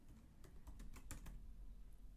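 Fingers type on a computer keyboard, a quick run of soft, close key clicks in uneven bursts, faint and alone with no talking.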